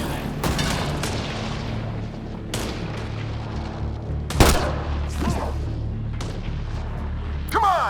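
A firefight in the Mass Effect: Andromeda video game: repeated sharp gunshots and booming blasts crack through a steady low rumble, some close and loud, others more distant, at an irregular pace.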